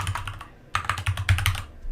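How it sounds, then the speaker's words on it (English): Quick bursts of keystrokes on a computer keyboard as a name is typed, clicking in short irregular runs with a brief pause in the middle, close and clear with no talking. "I'm going to name this whiteboard a group exit ticket"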